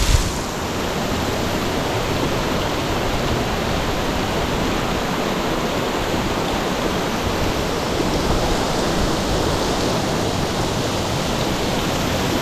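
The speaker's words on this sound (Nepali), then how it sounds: "माथिको यो जुन झर्नाबाट पानी झरेको छ नि" Water falling from a waterfall beside a rocky cave near Pokhara, Nepal, a loud, steady rushing roar that fills the whole scene without pause and with no talking.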